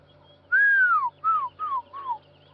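A person whistles an imitation of a fish eagle call, four descending whistled notes, the first long and loud, the rest shorter and fading, heard close and alone against a quiet background.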